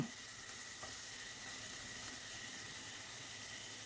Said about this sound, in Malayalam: എല്ലാം കൂടി ഇട്ട് കൊടുത്തൊന്ന് ഇളക്കി കൊടുക്കാം.